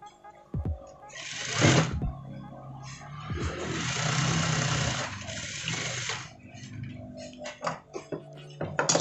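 A sewing machine stitches the shoulder seam of an almamater jacket in two loud, close bursts of rapid mechanical whirring, with quiet handling clicks between and after.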